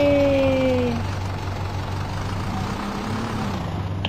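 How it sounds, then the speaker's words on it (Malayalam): A tractor engine in the Indian Bike Driving 3D video game drones steadily at idle, a low rumble with a rising tonal whine early on that fades into a constant hum. "ട്രാക്ടർ കൊണ്ട് വീടിൻ്റെ ഉള്ളിൽ ഒരു യാത്ര"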